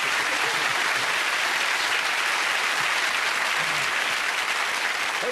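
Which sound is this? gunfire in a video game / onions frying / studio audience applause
studio audience applause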